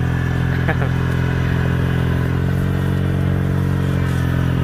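A rice transplanter planting glutinous rice in a paddy field in Don Chan district, Kalasin, runs with a steady, close engine drone and mechanical rattle that holds unbroken throughout.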